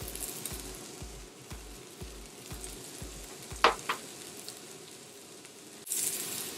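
Onions sizzle faintly in extra virgin olive oil with a steady low crackle, broken by a couple of brief utensil clinks and a louder burst of sizzling near the end.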